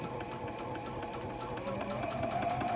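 A sewing machine stitches a Sail Away quilt block in a steady, continuous mechanical whir, with a regular ticking pulse running close and moderately loud throughout.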